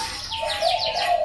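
Doves cooing at a bird farm with more than ninety cages holding zebra doves, turtle doves and other doves, a close, loud run of soft rhythmic coos and chirpy calls.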